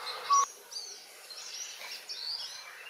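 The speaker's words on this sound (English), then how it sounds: "The colourful coppersmith barbet is one of the quintessential birds of Thai temples." A coppersmith barbet calls in the grounds of a Thai temple in Bangkok, faint, distant, short bird notes over quiet outdoor ambience.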